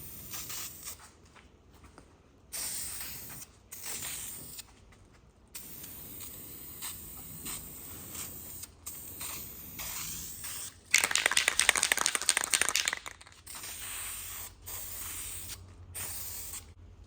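Flat black ceramic flameproof spray paint hisses from an aerosol can in repeated short bursts, with one longer, louder spray near the middle, close by, with no talking.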